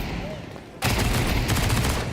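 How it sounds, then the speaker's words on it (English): Pistol gunfire in Counter-Strike on Dust 2 during a pro match, with a sudden burst of close shots and rapid crackling fire after a quieter opening, under excited commentary. "It's just pistols, right?"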